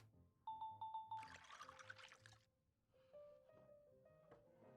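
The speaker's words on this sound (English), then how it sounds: "We just pour everything that's underneath." In Genshin Impact, drinks are poured while bartending: a burst of trickling liquid follows a few rhythmic chime tones, then softer game tones and faint clinks come after. No one speaks.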